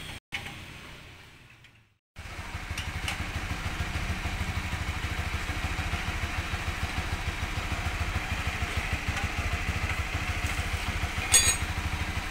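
A Honda CB150R motorcycle fitted with a Ninja 250 exhaust idles steadily with a low, even throb, loud and close, after a brief quiet gap at the start.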